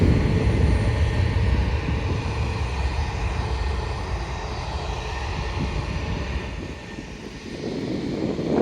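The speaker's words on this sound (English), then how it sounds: "And in the distance there, an EasyJet A320" An EasyJet Airbus A320 at Manchester Airport produces a steady, loud engine roar, a broad continuous rumble that dips briefly and then swells again, with no voices.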